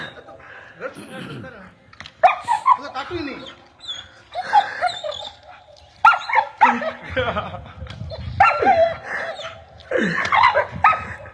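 A dog barks at a man trying to cut down a tree, in a clip played back, giving repeated sharp barks in bursts over several seconds, and a rooster-like crowing sound mixes in.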